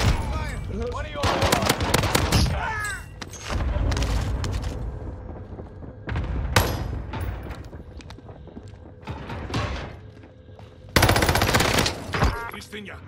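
Bursts of rapid gunfire with heavy booms in a Call of Duty match, loud and close, coming in several clusters separated by brief lulls, with a voice faintly underneath at times.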